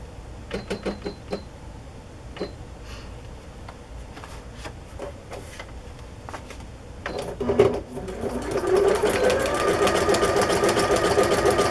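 A new sewing machine sews a playing card onto a journal page. A few sharp clicks and taps come first, then a steady, close mechanical whir of stitching builds and runs to the end.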